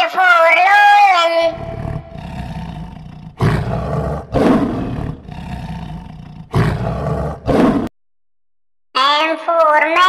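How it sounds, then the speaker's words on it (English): A lion roars in several powerful, drawn-out bursts separated by brief pauses and one full silence, with a bright sung or chanted voice at the start and end of the sequence. "L for lion"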